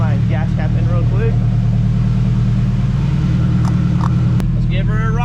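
Nissan S14 240SX drift car with a welded differential, its engine giving a steady loud low rumble throughout, with voices talking over it.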